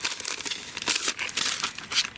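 A used paper stencil is crumpled up by hand for throwing away, giving a close, continuous crinkling and rustling in uneven bursts that lasts throughout.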